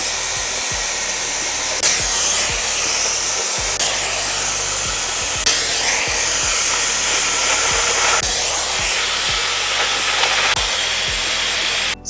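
A hair dryer hovers over curly hair with a steady, loud whooshing blow. The airflow hisses without break, and faint regular ticks sit underneath it throughout.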